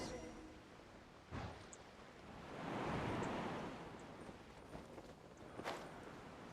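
Ocean waves in open water in a video game swell into a broad rushing surge and then recede, mid-level and steady, with a few soft knocks around it.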